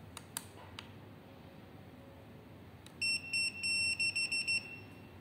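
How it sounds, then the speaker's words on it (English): A SkyDroid T12 remote control and receiver give a pairing confirmation: a quick run of about eight bright electronic beeps in an uneven rhythm, close and clear, after a few faint clicks and a quiet stretch. "If you hear this sound, that means the remote control and the SkyDroid already matched."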